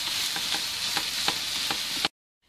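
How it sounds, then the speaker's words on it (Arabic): Zucchini with onions cooking in a pan give off a loud, steady sizzle. Soft scraping stir strokes recur about every quarter second before the sound cuts off abruptly near the end, with no talking. "الان اضيف القرع ونخليها حتى هي تطهى قليلا"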